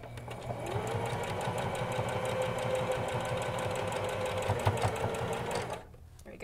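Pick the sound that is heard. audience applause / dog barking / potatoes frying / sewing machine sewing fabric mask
sewing machine sewing fabric mask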